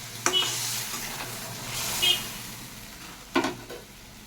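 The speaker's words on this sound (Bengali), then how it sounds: "তো ভালো করে মশলাটাকে কষিয়ে নিতে হবে।" Ground spice paste with a little hot water sizzles in a kadai as a spatula stirs it, with steady frying hiss under three sharp scraping stirs.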